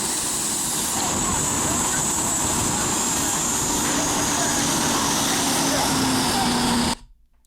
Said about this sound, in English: You see that firefighter over there firing up a tool.